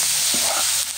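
Singi fish searing with vegetables in a pan, a steady close hiss of frying with a brief stir scrape partway through, no voices.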